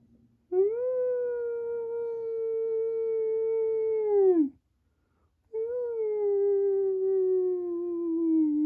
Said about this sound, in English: Wolves roam these wild lands.